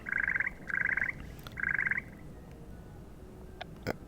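Chocolate frogs in a Harry Potter video game croak in three rapid, rattling bursts, loud and close over a low game background hum, followed by a couple of faint clicks.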